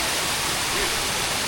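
Cholamala waterfall in Wayanad, Kerala, heard as a loud, dense, unbroken roar of falling water that fills the whole moment.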